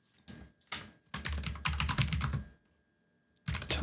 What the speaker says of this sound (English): Here's what most people would type.